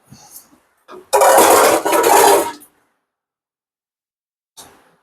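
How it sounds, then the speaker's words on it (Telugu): A spoon stirs a colourful yellow and orange meetha palu, a sweet made for Muslim weddings, in a metal pot. One loud scraping, clattering stretch of about a second and a half follows a few short knocks, with no talk. "మళ్ళీ దీంట్లో వేసుకొని కలుపుకుంటాను"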